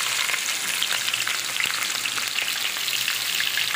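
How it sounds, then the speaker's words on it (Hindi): Onions sizzle steadily as they fry in a pan for a round gourd curry, a dense continuous crackle with small pops, close and fairly loud, with no talking. "प्याज को हम लाइट ब्राउन कलर का कर लेंगे ताकि प्याज जो है वो अच्छे से फ्राई हो जाए।"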